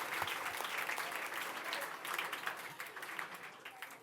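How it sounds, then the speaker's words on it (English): Students at a school annual day for standard nine applaud themselves after a theater performance, a steady, fairly distant wash of clapping from a crowd that lasts throughout. "Once more, you need to give yourselves a big round of applause."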